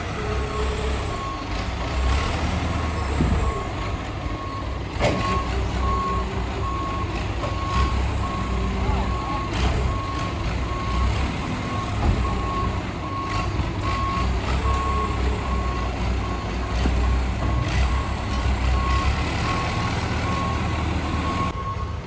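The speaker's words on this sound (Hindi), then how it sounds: "ये देखो इस प्रकार से हो रही है गाड़ी लोड" A truck being loaded with cargo, its reversing alarm beeping in a steady repeated pattern throughout, over a constant engine rumble with occasional air-brake hisses and clanks nearby.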